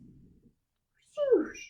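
A voice imitates a rotating lawn sprinkler with a single close, sweeping whoosh that falls in pitch, following a brief murmur of speech.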